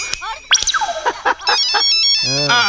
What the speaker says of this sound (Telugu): ఫోన్ ఫోన్ ఫోన్ వచ్చింది.